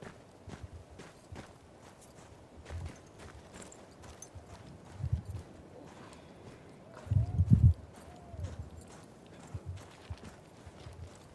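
Horse hooves clip-clop at a slow walking pace in the Battlefield 1 video game, soft and irregular over quiet ambience, with a louder cluster of steps near the middle.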